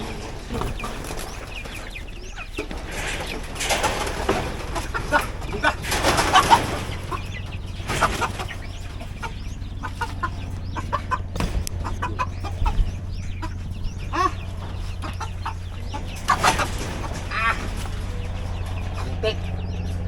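Chickens clucking nearby, with scattered squawks and rustling over a steady low background hum; occasional voices mix in.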